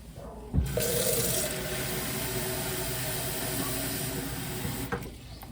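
Tepid water poured to top up an indoor vegetable garden setup, a steady close hissing stream that starts abruptly, runs evenly for about four seconds, then stops, with no talking.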